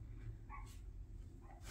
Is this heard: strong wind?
no